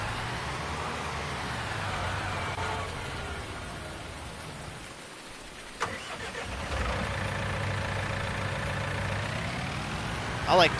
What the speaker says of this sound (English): I like the way that big John Deere starts up.